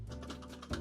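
A brief, quiet run of computer keyboard keystrokes, several quick taps in an uneven rhythm, heard alone.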